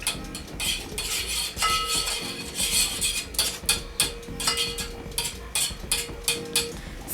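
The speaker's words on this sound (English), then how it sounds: "I'll make sure that I mix up my whipped cream" A utensil scrapes and clinks against a pot while whipping cream is mixed over heat, in irregular, quick strokes that sound close and moderately loud, with no talk.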